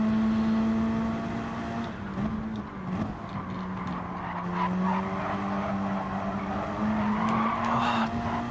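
A race car in a racing video game at Watkins Glen skids from oversteer, tires squealing over a steady engine drone that rises and falls, sustained and fairly close, with no talking.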